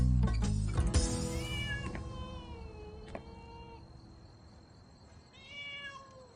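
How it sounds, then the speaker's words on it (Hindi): A cat meows several times indoors in a house, clear bent-pitch cries spaced over a few seconds, with a low rumble and bump at the start and a final meow near the end. "मैंने अंदर बिल्ली की आवाज सुनी।"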